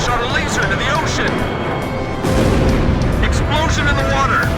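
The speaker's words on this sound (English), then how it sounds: "Explosion in the water!" A laser strike from the Arkbird hits the ocean in Ace Combat 5 and sets off a heavy explosion in the water, a loud roaring rumble that swells midway and plays under radio chatter.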